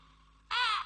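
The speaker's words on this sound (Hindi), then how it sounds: "अगर छत पर कौवा बोला है तो घर पर खर्चा डबल हो जाएगा" A crow on a rooftop gives a single loud, harsh caw that bursts in abruptly over quiet background and stops just as suddenly.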